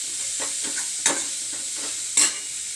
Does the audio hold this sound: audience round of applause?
no